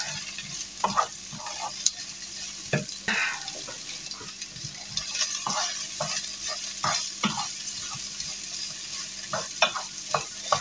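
Sliced onions hit a pan for poulet basquaise, giving a low steady sizzle broken by repeated scraping and clattering stirs, close and moderately loud with no speech.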